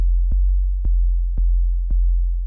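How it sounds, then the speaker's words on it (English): A steady low synthesizer sub-bass sine tone hums continuously, with four short clicks spaced evenly across the clip as it holds at a loud, even level. "we can expect our subby sine wave to get much louder"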